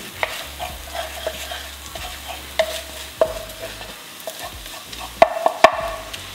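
Eggs with mushroom seasoning are stirred in a pan off the stove, with a faint background hiss and scattered sharp scrapes and clinks of the utensil against the pan.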